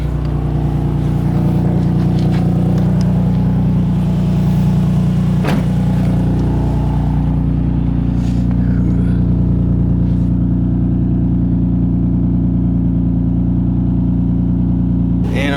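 A Nissan 350Z with a misfire idles loud on a cold start, its steady exhaust drone and rumble running throughout, close and alone.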